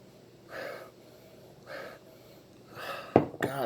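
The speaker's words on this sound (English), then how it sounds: "So let's give her" A person sniffs a glass of dark Rogue Sriracha stout, with two soft nasal inhalations followed by a sharper closer sniff and a short breathy rustle at the end.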